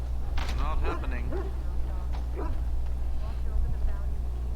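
Hounds in the Dragon Age: Origins video game, sickened by darkspawn blood, yip and whimper in short bursts over a steady low hum, with game dialogue voices talking throughout.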